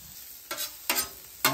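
Vegetables seasoned with salt, pepper, garlic and butter sizzle on a griddle under a quiet background hiss, broken by three short, sharp bursts of scraping and stirring, with no talk.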